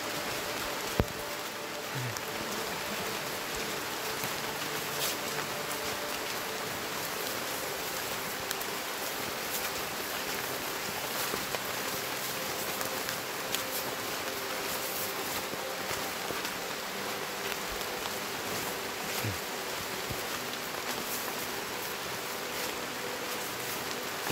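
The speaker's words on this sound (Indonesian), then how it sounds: "hujan." Steady rain falls in a forest beside an old, overgrown logging road, a continuous dense patter of drops heard alone throughout, with a few sharper drips standing out.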